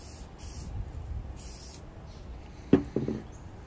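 A short burst of vinegar spray hisses onto a metal file against a quiet background, followed by a couple of soft clicks and bumps.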